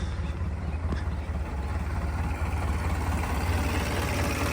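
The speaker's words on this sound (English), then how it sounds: "Idling nice." A 1930 Ford car engine idles steadily with a low, continuous rumble that holds even for several seconds, close by and fairly loud.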